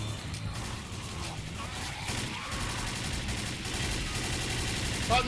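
Gunfire in Left 4 Dead during a four-player co-op stand-off at a boathouse: dense, rapid bursts of shots and clattering impacts in an unbroken barrage, with some chaotic game noise.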